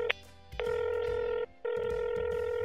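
A telephone rings in the Roblox Brookhaven game: a short chirp, then two long, steady electronic ring tones with a brief gap between them, loud and close, with no voices over it.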